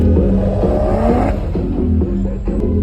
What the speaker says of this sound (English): heard that turbo spooling?